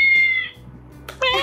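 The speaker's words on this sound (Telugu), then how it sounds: "క్యాట్ ఎలా ఉంటుంది? cat," A cat gives two clear, close meows, a drawn-out one at the start and a brighter one at the end, with a quiet gap between them.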